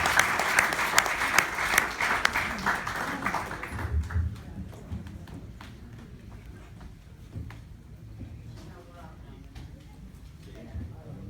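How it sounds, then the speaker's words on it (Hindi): An audience at a poetry recital in a hall applauds loudly for about four seconds, dense clapping that then fades into a quieter room with murmurs and scattered sounds. "मैं चाहता हूं पूरा सदन एक बार जोरदार तालियों से बुलाएं आदरणीय गिरीश नारायण पंडित"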